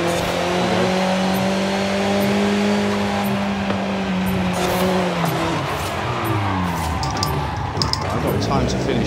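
Car engine in Forza Horizon 5, held in third gear with steady harmonic drone and shifting pitch as the car accelerates, with possible tire squeal, under continuous talk.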